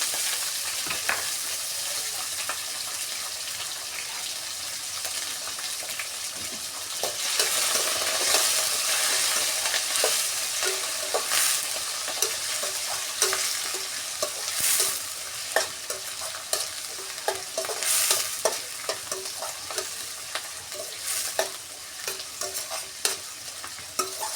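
Green chillies, onion and curry leaves frying in a pan for fast-food-style fried rice, a steady close sizzle that grows louder midway, with frequent scraping stirs and clinks of the spatula.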